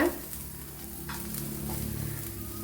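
Bitter gourd sautéing in a pan for pickle gives off a steady, close sizzle, with soft stirring scrapes throughout and no voices.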